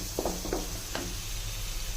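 Onions frying in a pan for prawn masala curry give a low, steady sizzle, with a few soft stirring clicks near the start.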